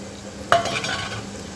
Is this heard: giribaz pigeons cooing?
no